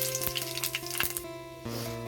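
Five-spice tempering hits hot oil for a cauliflower and potato curry, crackling and popping in quick bursts that give way to a softer sizzle over a steady background hum.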